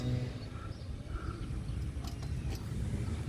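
A car hoist mechanism creaks and groans in a home garage, a steady low mechanical rumble with occasional higher squeaks, fairly close and continuous without talk.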